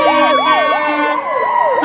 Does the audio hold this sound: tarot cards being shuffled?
no